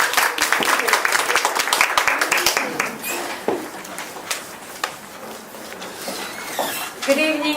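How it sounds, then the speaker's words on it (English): An audience claps in a dense burst that tapers off after a few seconds into scattered claps, with a voice speaking as it fades. "Ian Asahi, big applause."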